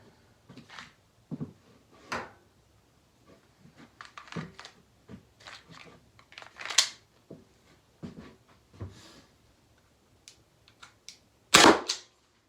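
Byrna launcher firing shots powered by CO2 cartridges, sharp pops spaced irregularly over several seconds, some louder and close, with quiet gaps between and a spoken count in between.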